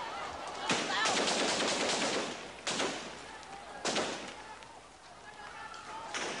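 Gunfire in the night outside the gates of Marcos's palace during the 1986 People Power Revolution in Manila, heard as several loud bursts of rapid shots and sharp cracks with crowd noise between them.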